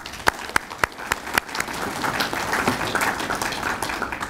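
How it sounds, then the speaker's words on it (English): Audience at a Gulf Coast State College solar energy event applauds the event staff, starting with a few loud separate claps, then swelling into steady clapping from a moderate crowd. "Please give them a round of applause."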